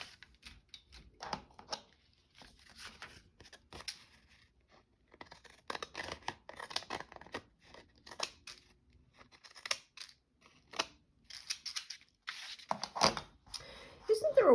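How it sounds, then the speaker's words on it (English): Scissors snip paper in short, irregular bursts of crisp cuts with pauses between them, shaping the edges of pages for a junk journal, close and fairly quiet. "it's with scissors. To sort of do this to make the edges"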